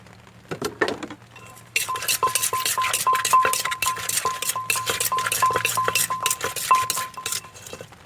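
Spoon clinking and scooping in a pot of homemade Thai fermented fish sauce (pla ra), rapid repeated metallic chinks against the container, loud and close after a brief quieter start.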